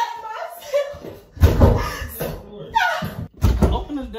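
A door bangs in a home, with a few loud thumps and slams mixed among raised voices as people argue close by.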